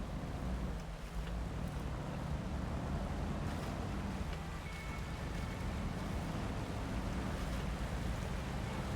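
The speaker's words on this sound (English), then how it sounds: "proper water currents like that will actually move your car if they're strong enough and if you're deep in the water" Truck pushing through deep, strong water currents in SnowRunner, a steady broadband wash of rushing water and low engine rumble, loud and continuous with no voices.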